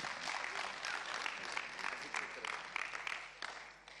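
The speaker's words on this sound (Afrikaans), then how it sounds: "Gerard, kom ons gee hom 'n hande klap, is hy welkom?" An audience at a talk on the dangers of social media claps to welcome the speaker, steady close applause with some voices mixed in throughout.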